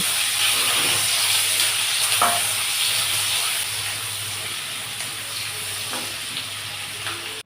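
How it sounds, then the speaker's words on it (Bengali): Chopped onions and whole spices (bay leaf, cardamom, cinnamon, cloves) fry in oil for chicken biryani, giving a steady close-up sizzle and hiss throughout, with a few faint clinks of stirring and no talk. "এরপর পেঁয়াজ কুচি দিয়ে কিছুক্ষণ ভেজে নেব"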